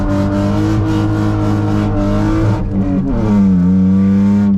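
A BMW E36 with a welded differential revs steadily while drifting in snow, its loud engine drone holding near constant pitch, then dipping and climbing again close up.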